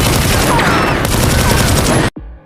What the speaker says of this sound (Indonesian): Dia melancarkan tembakan kepada Yvette Barwell dan beberapa pria yang memegang senjata di sebuah hutan.